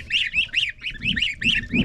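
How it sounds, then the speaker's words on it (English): Geese on a homestead farm honk repeatedly in quick succession, loud and close, a rhythmic series of nasal calls with faint background noise beneath. "There's the geese, and they are very protective."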